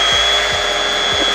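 A Milwaukee M12 Gen 3 Fuel hammer drill runs in drill mode at speed 1, giving a loud, steady, close motor whine with faint rhythmic knocks underneath.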